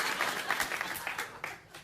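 Late-night talk show studio audience applauding steadily, a dense, even wash of clapping with a few sharper swells, close and fairly loud, with no voices over it.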